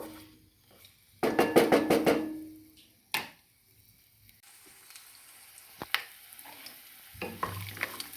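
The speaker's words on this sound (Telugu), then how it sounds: "ఆయిల్ వేడెక్కాక వెల్లుల్లి రబ్బలు," Garlic cloves dropped into hot cooking oil, with a loud burst of crackling sizzle and stirring, then a quieter steady frying hiss with occasional scrapes, close and without talk.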